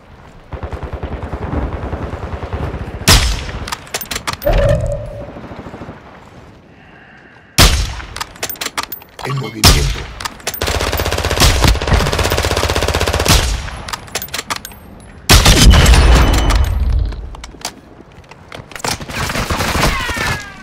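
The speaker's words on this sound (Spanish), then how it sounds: "¡Me disparan!" Bursts of automatic and single gunfire crack and rattle in Call of Duty Warzone 2.0 Resurgence, loud and close, coming in rapid volleys separated by brief pauses, with heavier impacts mixed in.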